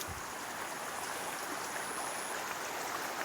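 A shallow, low-water river in the Konkan region flows in a steady, continuous rush of broadband water noise, close and even throughout, with no voices.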